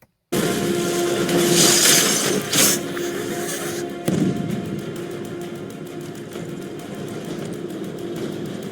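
A loud, rumbling film bomb explosion roars and then settles into a long, sustained low rumble with crackling debris, heavy and continuous throughout.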